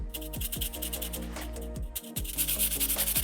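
Scraping paint by hand off a plastic Forge World Titan model: a continuous close rasping scrape with fast repeated strokes, loud and dry throughout.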